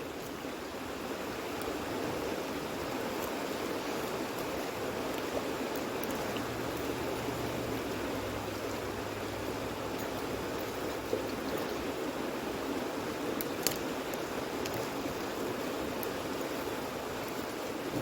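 A river rushes steadily nearby, a broad even wash of flowing water that continues unbroken, with no voices.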